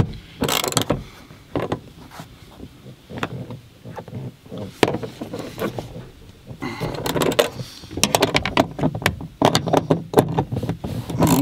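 A ratchet tightens the seatbelt bar bolts inside the rear door of a three-door Honda Civic, producing loud, close bursts of rapid clicking with short pauses between them.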